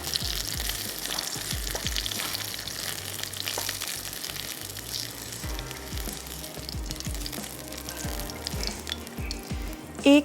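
Eggplant frying in oil in a pan, with a steady close sizzle and occasional soft stirring clicks throughout, and no talking.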